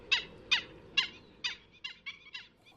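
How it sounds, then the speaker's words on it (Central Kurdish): A black-winged stilt, a long-legged pink-legged wader, gives a run of sharp, nasal calls, about seven evenly spaced notes quickening toward the end, heard alone over a low, steady outdoor hum. "چەکمە سوورە"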